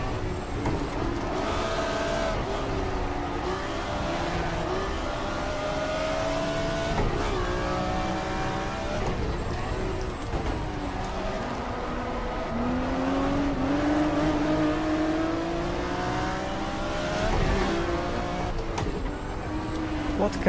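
A racing car's engine in the GTR2 sim game drones and revs continuously through gear changes at high load, loud and steady throughout, with someone talking over it at times.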